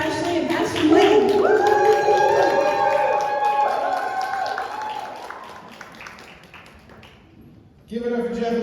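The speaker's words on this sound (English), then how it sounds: "give them the loudest round of applause" A church congregation claps and cheers for arriving guest pastors, a loud crowd roar with whoops and raised voices that fades gradually before a fresh burst of crowd noise at the end.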